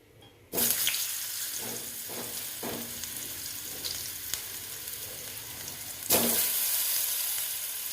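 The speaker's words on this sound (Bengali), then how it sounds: "আলুগুলো না খুব সুন্দর করে আমাকে ভাজতে হবে" Big cut potato pieces drop into hot oil with a loud burst of sizzling that settles into a steady fry, broken by a few stirring clacks and a fresh surge near the end as more go in.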